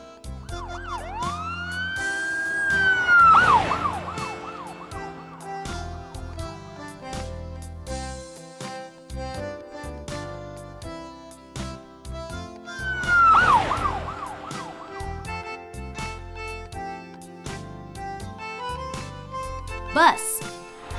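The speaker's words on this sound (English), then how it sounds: "Police car." Two brief police siren wails rise and sweep a few seconds apart over steady background music, with a sharp click near the end.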